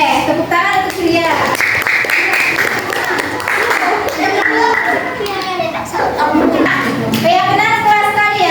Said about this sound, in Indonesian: Boleh, tepuk tangan untuk Ilya.